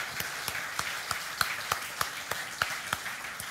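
A church congregation claps after a sermon, a fairly quiet, evenly spaced rhythmic clap repeating about three times a second over a low, continuous background murmur of the room.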